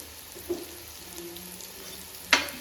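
Ginger garlic paste fries in a pan for fish biryani, giving a low steady sizzle with two brief sharper spits or clinks, close and fairly quiet, no voices.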